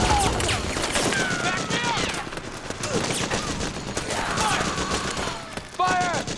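Dense automatic gunfire rattles continuously through a battle in Metal Gear Solid 4: Guns of the Patriots, loud rapid bursts layered with shouted voices calling orders.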